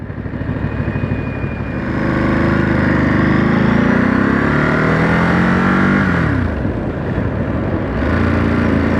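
A 2023 Ducati Monster SP motorcycle pulling away in first gear, its engine rising in a loud, steady rev as it picks up speed, with wind noise rushing throughout.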